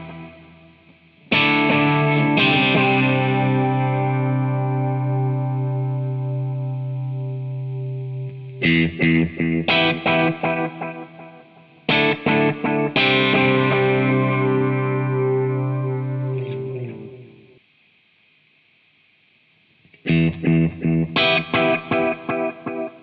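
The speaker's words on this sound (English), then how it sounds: "the very rare Morley Evo 1, better known as the oil can delay" An electric guitar through a Morley Evo 1 oil can delay, modelled in AmpliTube: loud chords ring out and decay with smeared, slightly distorted echoing repeats, in several phrases separated by brief pauses.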